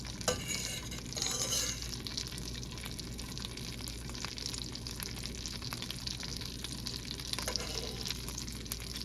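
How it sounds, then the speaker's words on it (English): Food cooking and simmering in a pot on a home stove, a quiet, steady bubbling sizzle with a few brief stirring or clinking sounds. "we're just gonna let these cook and simmer"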